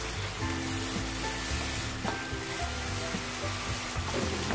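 Masala sautés in oil for chicken bhuna, a close, steady sizzle and crackle with soft stirring scrapes and occasional spatula taps, no talking.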